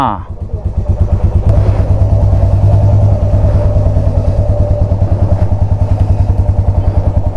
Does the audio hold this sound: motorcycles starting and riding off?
yes